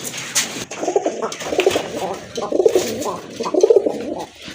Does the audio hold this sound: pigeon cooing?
yes